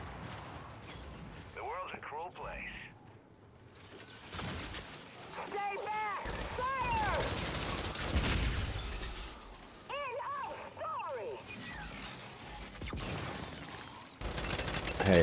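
Gunfire in the video game Gears 5, bursts of shots and crashing impacts through a dense, continuous battle din, with game voices and players talking over it.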